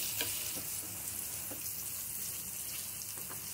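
Jackfruit rings fry in hot oil in a small pan, giving a steady, dense sizzle that stays at even loudness from start to finish with faint crackles and no voices.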